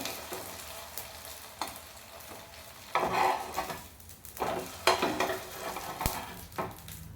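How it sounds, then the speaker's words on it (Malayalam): Tofu pieces frying in a pan give a soft, steady sizzle, with a few louder scraping and clinking moments as the pieces are turned, all fairly quiet and without talking. "രണ്ട് സൈഡും ഒന്ന് ഫ്രൈ ചെയ്തെടുക്കാം."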